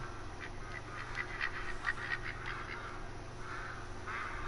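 Ducks quacking in the hunting game Call of the Wild, a few moderate calls over a steady outdoor ambience with no talk.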